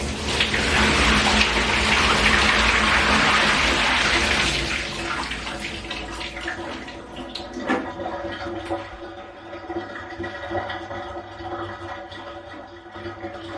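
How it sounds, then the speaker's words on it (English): Water from a household dehumidifier's tank pours and sloshes loudly for several seconds, then gives way to quieter splashes, drips and handling clatter, with no talking. "I'm gonna bring you guys with me just so you can hear how much water this is."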